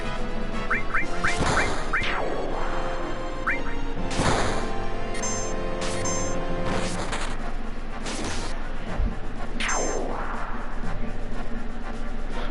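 Birds quacking in the Final Fantasy 7 video game, several loud duck-like calls scattered among whooshes and thwacking hits over steady game music.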